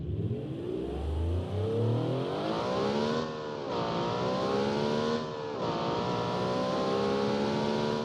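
A tuned turbo V16 Group C race car in BeamNG revs hard and climbs through the gears, its engine a loud, steady, rising howl with brief dips at each shift.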